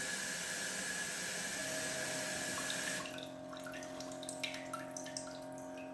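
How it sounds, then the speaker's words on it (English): Water sprays steadily from a smart toilet's bidet nozzle during its self-cleaning cycle, a close hissing rush that stops after about three seconds, leaving faint trickles and drips. "long press for nozzle cleaning. Now it's gonna clean the nozzle"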